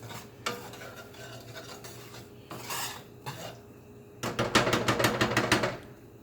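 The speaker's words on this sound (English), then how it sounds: "Got a little whisk, move it around a little bit." A small whisk scrapes and taps around a pan of homemade white country gravy, first in sparse strokes, then in a quick burst of rapid rhythmic scraping near the end, close and fairly quiet.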